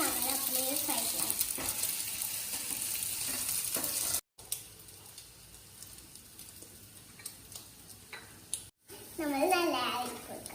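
A banana snack fries in a pan, giving a steady, fairly quiet sizzle with a couple of short breaks, while a person talks over it now and then.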